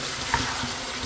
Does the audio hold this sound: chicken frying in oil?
yes